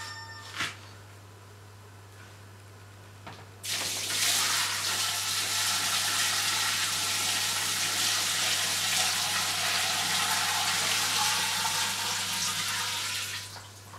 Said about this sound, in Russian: у нас тузлук остыл, и сейчас просто заливаем